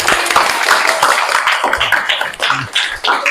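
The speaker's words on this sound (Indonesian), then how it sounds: "Tepuk tangan." Clapping breaks out in a classroom-style session, a close, fairly loud flurry of hand claps with uneven bursts and brief dips.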